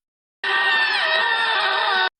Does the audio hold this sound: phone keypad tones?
no